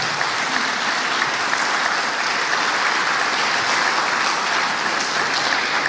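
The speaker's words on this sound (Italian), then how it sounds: "a cui chiedo di fare un grande applauso." Sustained applause from an audience at a bank's headquarters inauguration, honoring its honorary president and founder; dense, steady clapping from many hands throughout, fairly loud and even.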